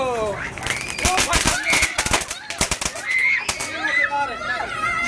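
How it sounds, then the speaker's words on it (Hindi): Sharp crackling pops burst in quick succession from a small chitput firecracker at Diwali, with whistling squeals and excited voices chattering nearby. "ये बहुत मजेदार पटाखा था।"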